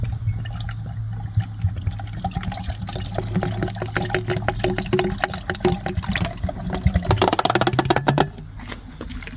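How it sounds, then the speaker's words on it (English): Coolant glugging and splashing as it is poured into a van's cooling system after a PD150 thermostat replacement, a continuous bubbling, gurgling flow with drips that swells near the end, then cuts off, close up. "Let's start putting coolant in this thing and run it up and see if the thermostat actually worked"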